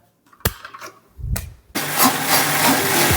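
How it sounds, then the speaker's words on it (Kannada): A kitchen mixer grinder works a curry leaf paste, with a couple of short knocks and a brief whir before the motor starts up into a loud, steady grinding roar. "ಇವಾಗ ಇನ್ನೊಂದ್ಸಲಿ ಮಿಕ್ಸಿ ಮಾಡ್ಕೊಳ್ಳೋಣ"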